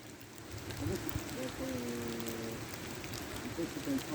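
Rain falling outdoors at night, a soft, steady patter and hiss across the whole stretch, with a voice speaking briefly over it partway through.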